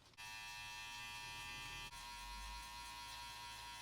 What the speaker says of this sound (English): Now I'm going to go back to my clipper set so I can go ahead and use this 10mm number 3.